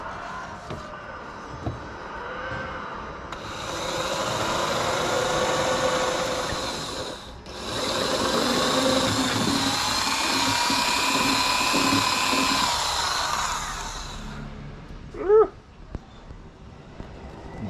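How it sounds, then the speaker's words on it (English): A power drill whines loudly and steadily as it bores a hole through a boat's aluminium hull, pausing briefly midway, then winds down, followed by a short squeak and light handling noises. "Let's continue drilling the hole."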